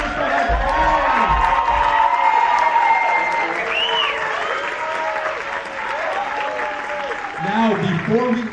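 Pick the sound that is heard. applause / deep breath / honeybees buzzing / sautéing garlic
applause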